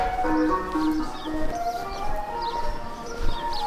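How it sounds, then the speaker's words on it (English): An ice cream van coming down a street by Sandfields Police Station plays its tinny, looping chime melody at steady moderate loudness, with faint bird chirps and outdoor background noise. "oh, we've got an ice cream van coming down"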